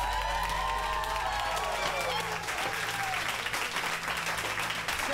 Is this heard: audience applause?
yes